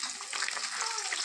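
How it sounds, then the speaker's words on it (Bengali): Fish frying in a home kitchen pan, a steady, close crackling sizzle that holds at an even level for its whole short length, with no talk over it. "এখানে মাছটা ভাজছি,"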